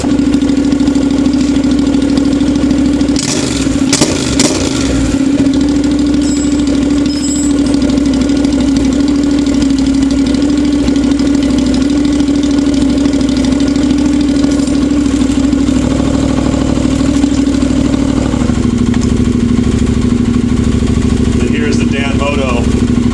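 A Honda NC700X motorcycle idles steadily and loud with a straight pipe exhaust and no baffle, a deep constant rumble, with a brief clattering burst early on.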